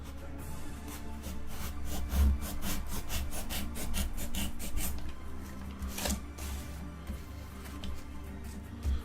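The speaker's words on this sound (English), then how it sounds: "I'm just beveling it" Wood is bevelled by hand for a Middle-earth tabletop terrain piece, a steady run of rhythmic rasping strokes close up over a constant low hum, the strokes fading toward the end.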